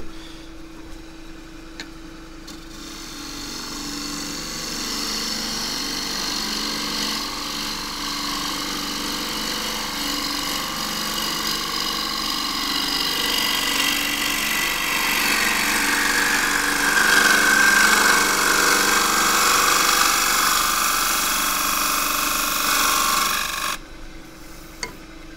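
A 3/8-inch bowl gouge cutting a casuarina wood bowl spinning on a lathe, a steady rasping, hissing shear that swells gradually over about twenty seconds before stopping, with a low motor hum underneath.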